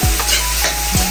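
Onions and garlic sizzle loudly and continuously in a hot pan, stirred close up while being sautéed as the base for mung bean stew with pork.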